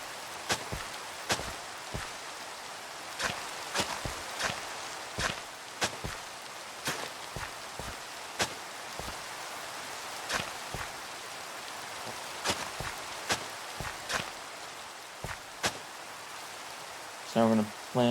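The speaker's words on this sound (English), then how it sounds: "Oh, this rain's making it hard to see." Rain falls in the video game Minecraft as a steady soft hiss, with regular sharp clicks of block placing and footsteps scattered across it and a brief chime near the end.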